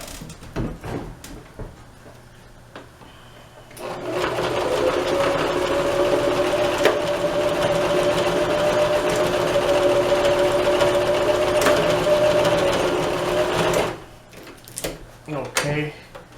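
A sewing machine stitches elastic into sweatpants, running in one steady, whirring burst of about ten seconds, close and fairly loud, with handling noises before and after.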